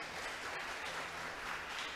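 A church congregation applauds during a sermon, giving a steady, even round of clapping from many people that fills the space at moderate volume without a pause.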